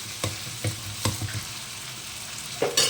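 Ginger garlic paste sautés in hot oil with a steady, close sizzle, broken by a few sharp spoon or spatula scrapes and stirs, and a louder hiss near the end.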